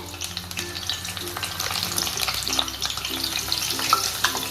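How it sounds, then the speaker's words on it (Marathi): Slit green chillies frying in hot oil for chutney, a dense, steady crackling sizzle with small pops, close and continuous, with light stirring throughout. "आता मिरच्या तळणार आहे या मिरच्याला मी काप दिलेला आहे"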